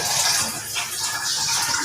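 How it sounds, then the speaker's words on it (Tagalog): Water gushes steadily into a basin while cooking sponge gourd with misua and sardines, a close, continuous pouring splash filling the whole short stretch without speech. "Ayan guys, lagyan na natin ng tubig."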